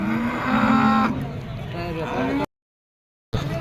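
Cows lowing at a busy livestock market in Sangola, with prolonged moos rising over crowd chatter and market noise before a brief dropout.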